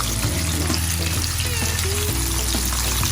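Shrimp deep frying in hot oil, Arabic style, giving a dense, steady sizzle and crackle with faint clinks, close up and with no talk.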